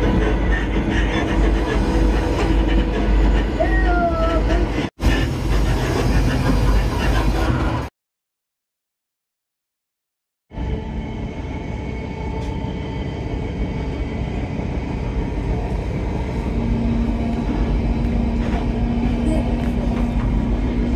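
Interior of a moving passenger train carriage: a steady loud rumble of wheels and carriage noise, broken by a brief gap of silence before the droning resumes, with occasional talk.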